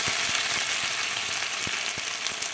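Onions, potatoes and mince sautéing in oil in a pan, a steady, close hiss and sizzle with a few soft stirring taps scattered through it.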